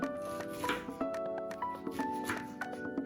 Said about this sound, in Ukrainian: подрібнюємо маленькими кубиками